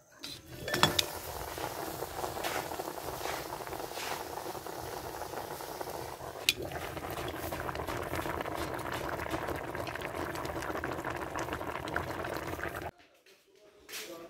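A pot of ginataan, a coconut milk dish, bubbles and simmers steadily at close range with a dense, continuous boiling hiss and occasional clinks, then cuts off near the end.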